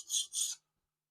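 A plane blade's bevel rubbing on a DMT 4000 fine diamond sharpening plate: two quick, close rasping strokes in a row, then silence.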